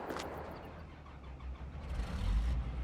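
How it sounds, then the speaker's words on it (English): A vehicle engine starting in the video game Farming Simulator 22, a muffled low rumble that builds and settles toward a steady idle, heard alone without talk. "Engine on."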